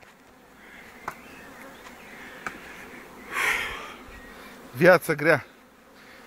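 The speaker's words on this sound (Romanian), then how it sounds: "Familiile bubuie de albine." Honeybee colonies hum steadily during acacia honey extraction on an overcast June day, a dense insect drone running throughout, with a short spoken remark and a few louder close buzzes or snorts near the end.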